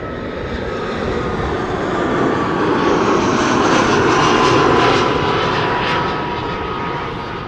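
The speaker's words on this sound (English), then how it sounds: "This is Finnair, flight 1301, arriving from Helsinki." A Finnair flight arriving from Helsinki, likely an A350, roars past as a loud, broad jet engine rumble that swells to a peak midway and then slowly eases off, with no talking.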